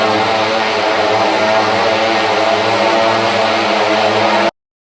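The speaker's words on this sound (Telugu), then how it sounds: "ఈ బైక్ సౌండ్‌కి హెడ్‌ఏక్ వచ్చేసిందిరా బాబు" Loud stunt motorcycle engines roar at a circus show in Bangalore, a dense, continuous droning wall of engine noise that holds steady and then cuts off abruptly near the end.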